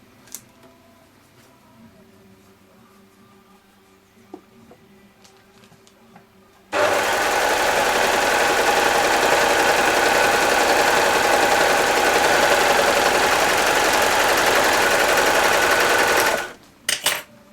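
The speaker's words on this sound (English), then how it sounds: "There's my 4-thread overlock, and that's what I use as a seam." A Baby Lock Desire 3 overlock machine sewing a 4-thread seam starts after a quiet stretch and then runs as a loud, steady, fast buzzing hum for about ten seconds before stopping abruptly.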